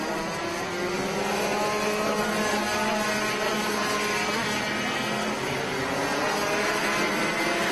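Rotax racing karts on track, several two-stroke engines buzzing together with rising and falling pitch, a dense continuous drone at mid distance.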